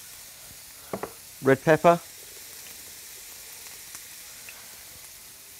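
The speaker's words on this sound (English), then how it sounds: "Got a hot pan here now, so I'm going to add some onion and chorizo sausage" Onion and chorizo sausage sizzle in a hot pan as a soft, steady hiss running under a few brief spoken words.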